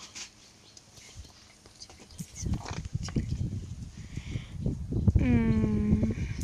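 A sheep in Minecraft Pocket Edition gives one clear, wavering bleat near the end, heard over game footsteps and clatter while people talk.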